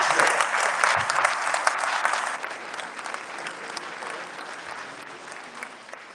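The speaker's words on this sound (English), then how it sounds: "let's give these young men a round of applause" An audience at a South Florida youth athletic awards ceremony applauds young athletes, a broad wash of clapping that is loudest at the start and slowly thins and fades.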